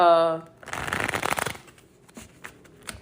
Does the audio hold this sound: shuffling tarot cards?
yes